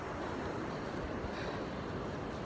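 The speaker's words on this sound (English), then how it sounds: "This is how pretty the beach looks like at sunset." Ocean waves wash onto a beach at sunset, heard as a continuous broad roar of surf mixed with wind rushing over the microphone, steady and fairly loud with no voices.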